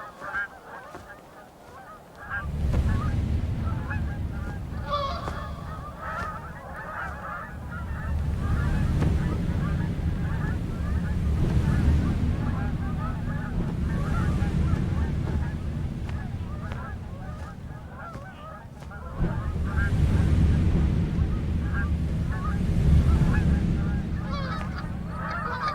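Geese honk repeatedly in loud clustered bursts outdoors, the calls rising and falling over a wind-buffeted background.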